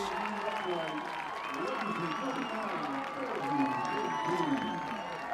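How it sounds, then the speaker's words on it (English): Crowd cheering and clapping from the stands at a high school football game, a broad distant roar heard from above under a commentator's voice. "as you can hear the crowd below us."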